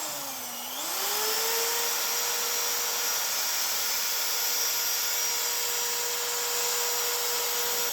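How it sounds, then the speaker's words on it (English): A power drill spins up to a high, steady whine and keeps running loud and continuous, with a steel wire brush scrubbing against the metal of an old engine from a 1958 Pontiac Sedan Delivery. "giving it a little bit more of a brush with my little steel brush here on the drill"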